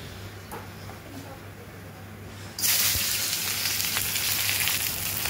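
Onions hit hot oil with cinnamon in a pan, bursting into a loud, sudden hiss partway through that keeps up as a dense, steady sizzle up close.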